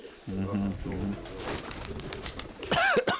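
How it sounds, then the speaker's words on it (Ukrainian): Black pigeons coo close by in a strong, rolling low call at the start, then a person speaks over a busier background. "Оце так ось голубки"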